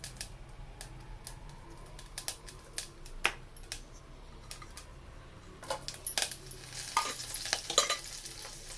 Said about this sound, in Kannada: ಪಾತ್ರೆಯಲ್ಲಿ ಎಣ್ಣೆ ಹಾಕಿ ಒಗ್ಗರಣೆ ಹಾಕ್ಕೋಬೇಕು